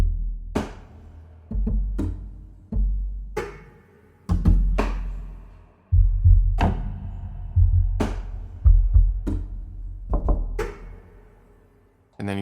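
Soft, muffled kick drum hits from the Memories Piano sample library, deep thuds played singly and in short clusters with ringing low tails, irregularly spaced and close.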